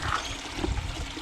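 Water rushing and splashing through a sluice, a brief gurgling flow with low churning and a few splashy bursts, loud and close with no voices.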